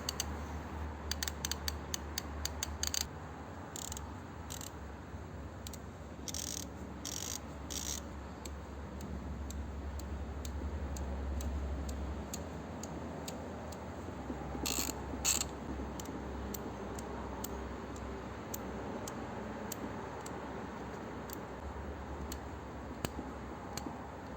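Steady mechanical clicking and ticking of a Bonkyo telescopic socket wrench ratchet with a stiff selector switch, quick bursts of sharp, coarse clicks over a low hum, worked repeatedly up close.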